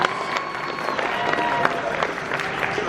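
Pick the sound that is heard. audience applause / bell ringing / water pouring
audience applause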